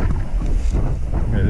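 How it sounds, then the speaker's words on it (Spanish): Strong wind buffeting the microphone outdoors near a busy street, a loud, continuous low rumble with gusty surges throughout and no talk over it. "El viento, loco."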